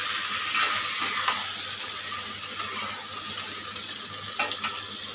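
Sauce goes into sizzling beef in a pan and is stirred in quickly, a steady close sizzle broken by a few sharp scrapes of the spoon, with no talking.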